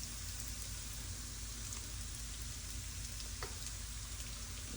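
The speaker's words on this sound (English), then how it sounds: "the next step is to add our onions." Onions going into a pan of green rice, a faint, steady hissing sizzle that holds evenly throughout with no talk over it.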